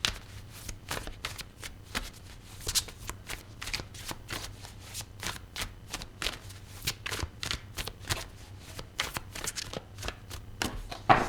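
Tarot cards are shuffled by hand in quick repeated riffling bursts, close and crisp, with short pauses between runs and no talking.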